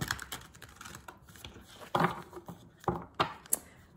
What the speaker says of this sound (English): I'm going to dive on in now and begin shuffling for you.